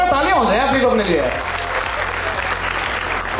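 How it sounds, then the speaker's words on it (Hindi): Loud audience applause at an awards ceremony in a hall, a dense wash of clapping that starts under a rising voice and sustains strongly on its own, close and full. "एक बार जोरदार तालियां हो जाए प्लीज अपने लिए।"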